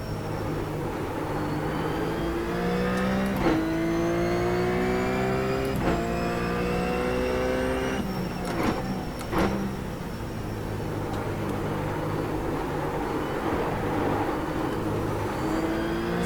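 A RUF C Spec race car engine in iRacing on the Nürburgring VLN layout, droning steadily and revving up through the gears, with sharp gear-change breaks and rising pitch sweeps, loud and close throughout with no talk.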